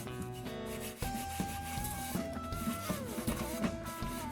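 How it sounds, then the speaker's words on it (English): Steel wool scrubbing loose burrs and flaking paint off the body of an Aladdin Blue Flame 15 series kerosene heater, a close, continuous scratchy rubbing with short irregular strokes and faint metallic ringing tones underneath. "let's just do a little steel wool. This is just getting rid of the burrs in the paint."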